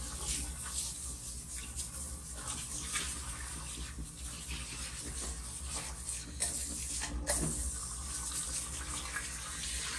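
Water runs steadily from a tap while a Sphynx cat is rinsed during a grooming session, a continuous close splashing stream with small shifts as it hits fur and basin.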